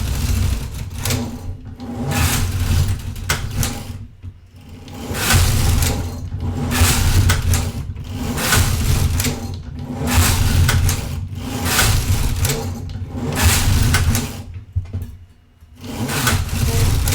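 A Singer knitting machine knits 2x2 industrial rib, the carriage swishing back and forth in rhythmic passes roughly every two seconds, each with a rattling slide and short pauses between rows, close and clear.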